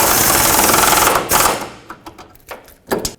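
Bolts being tightened on the rear bumper of a 2009-2014 Ford F-150, starting as a loud continuous buzzing run of a power tool, then several short, sharp bursts and clicks as each fastener snugs up, close by.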